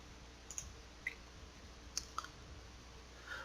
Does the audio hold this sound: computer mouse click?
yes